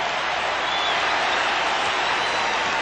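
A basketball arena crowd at a 1989 NBA Finals game, Lakers at Pistons, cheering and applauding sky hooks from the 42-year-old Kareem: a continuous, broad roar of clapping and voices, steady and moderately loud with no breaks.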